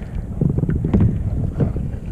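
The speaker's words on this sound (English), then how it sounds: "Oh, this wind is about to get me upset." Gusty wind buffets the microphone on a bass fishing boat, giving a close, rumbling, fluttering roar with no speech.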